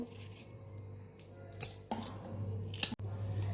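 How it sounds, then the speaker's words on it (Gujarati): Red chillies are cut into pieces after their seeds and veins are removed for a pickle, giving a few crisp separate snips over a quiet steady hum. "આવી રીતે ટુકડામાં આપણે મરચાંને સુધારી લેવાના છે"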